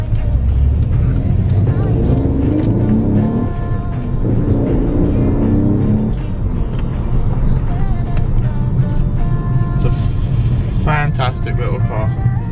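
An Alfa Romeo GT engine hums steadily while driving, a low continuous rumble with road noise throughout, and people talk over it.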